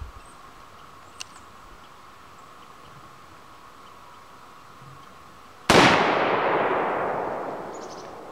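A single sharp report from a Marlin rifle fitted with a new scope cracks out after a quiet stretch, loud and close, followed by a long, fading outdoor echo.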